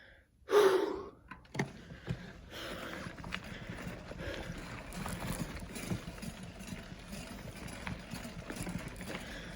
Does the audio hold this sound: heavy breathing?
yes